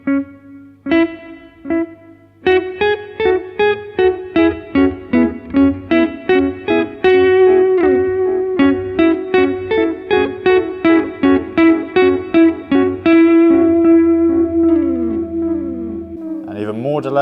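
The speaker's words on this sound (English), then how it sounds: "On the custom mode, you have up to 800 milliseconds of delay." An instrument runs through a long delay effect of up to 800 milliseconds with heavy echo and feedback. Plucked notes repeat in quick trailing copies that stack up and smear into a ringing, sustained wash before fading.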